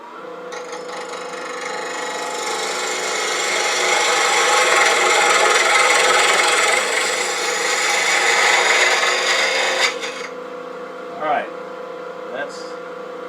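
A boxwood box is shaped on a wood lathe, a continuous close scraping hiss of the tool cutting the spinning wood that swells and then cuts off, followed by a few light knocks.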